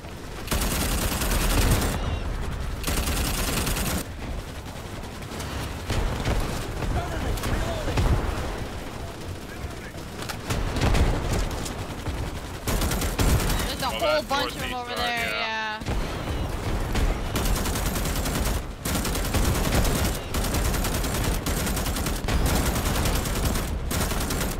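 Chaotic gunfire in Starship Troopers: Extermination, with sustained volleys of rapid shots and heavy booms that run almost nonstop, and players talking over the fighting.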